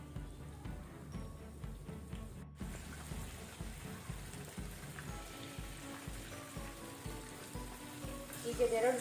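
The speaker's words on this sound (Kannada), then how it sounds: "ಆಯಿಲ್ ಬಿಸಿ ಆಗಿದೆ ಡೀಪ್ ಫ್ರೈ ಮಾಡಲಿಕ್ಕೆ. ಈಗ ಒಂದೊಂದೇ ಪ್ರಾನ್ಸ್ ಅನ್ನು ನಾವು ಹಾಕ್ತಾ ಹೋಗುವ" Marinated prawns for chilli garlic prawns deep frying in hot oil, a steady dense sizzle and crackle running throughout, close and fairly loud, swelling slightly near the end.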